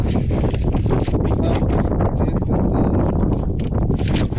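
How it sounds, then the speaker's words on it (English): Strong wind buffets the microphone on an exposed hilltop field, a steady, loud rumbling roar with gusty swells and no pauses. "if you up on top of the hill where that wind is blowing, it pretty rough"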